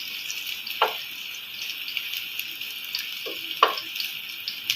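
Ginger browns in a hot pan with a steady, bright sizzle, punctuated by a couple of louder stirring scrapes, close and without talk.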